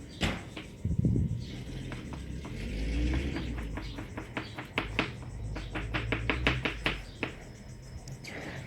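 A knife chops chicken leg quarters finely on a board, with a quickening run of sharp, close taps that becomes steady, rhythmic chopping in the second half.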